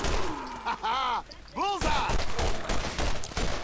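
Gunfire in the video game Borderlands as enemies are shot: dense bursts of shots, including a rapid run in the second half, mixed with game sound effects and people talking over them.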